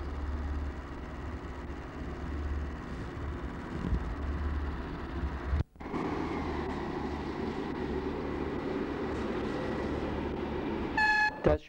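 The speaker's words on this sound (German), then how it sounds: "Selbst die Bahn wird von größeren Wandergruppen gerne als bequemes Transportmittel benutzt." A passenger train runs through the Schmiech valley with a steady rumble and rattle of wagons, a brief break in the noise midway, and a short horn toot near the end.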